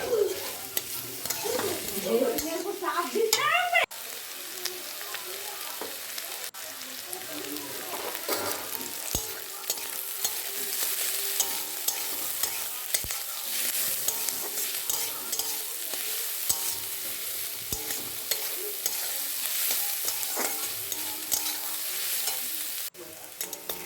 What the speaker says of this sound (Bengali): তাতে পরিমাণ মতো নুন আর হলুদ দিয়ে বেশ অনেকক্ষণ পেঁয়াজগুলো ভেজে নেব